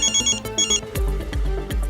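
A mobile phone ringtone plays as a short, bright, repeating electronic melody of quick tones, close and clear with no voices over it.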